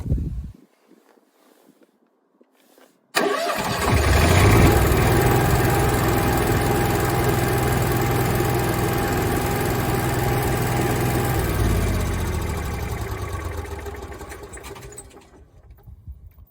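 An Onan RV generator engine, started remotely, cranks abruptly after a quiet stretch and settles into a steady, loud mechanical running drone with vibration, then winds down and fades toward the end.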